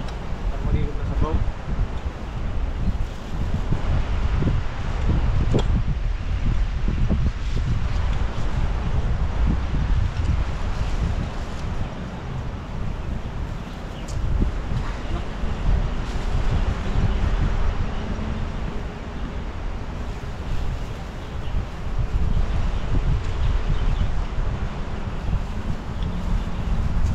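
Steady wind roars and buffets outdoors, with broad rushing noise and rustling throughout, and a few people talking faintly in the background.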